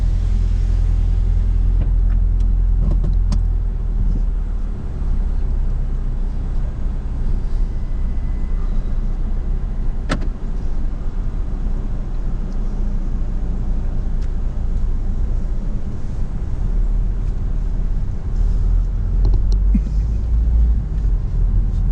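A car drives a couple of miles up the road toward a locally owned supermarket, with a steady low road rumble and engine drone inside the cabin throughout, plus occasional faint clicks and no talking.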